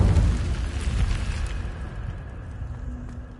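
A burst of the Incendio fire spell in Hogwarts Legacy, a loud deep whooshing boom at the start that rolls off into a fading roar over a few seconds.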